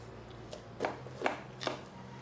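A knife scores raw meat for alfaham mandi with three crisp cutting strokes in quick succession, close and fairly quiet, with a faint earlier scrape and no talking.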